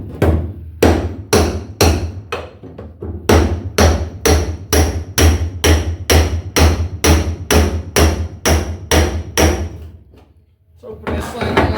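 Steel screwdriver driven into a body seam on a 1972 Ford Bronco with about twenty loud, close hammer blows in a steady rhythm, one brief pause partway and a longer gap near the end.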